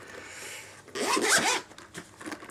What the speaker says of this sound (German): Mit Reißverschluss.